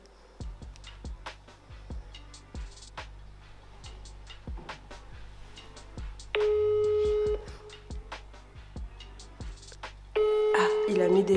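A steady electronic phone ringtone sounds, alongside a repeating rhythmic beat, with louder tonal stretches near the middle and end.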